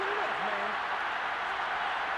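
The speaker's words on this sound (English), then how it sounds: "Well, this crowd does not like that call." Stadium crowd noise in the video game Madden 22 reacting to a penalty call, a steady broad roar of the virtual crowd with a brief vocal inflection near the start.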